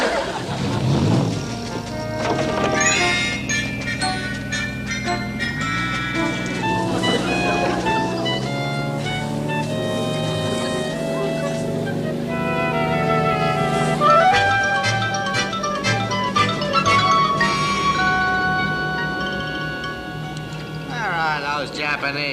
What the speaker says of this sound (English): Start your engines, all ahead a quarter.